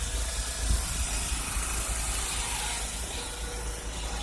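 A 2007 John Deere LA110 lawn tractor engine runs steadily nearby, a constant low rumble with a hissing wash on top and no break across the few seconds.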